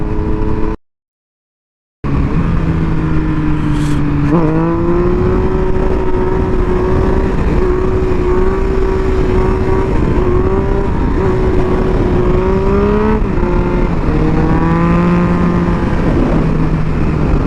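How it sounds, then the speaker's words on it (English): A Yamaha FZ-09 motorcycle engine revs hard through a power wheelie, its steady, loud drone rising in pitch in surges after a brief dropout near the start. "That was a power wheelie."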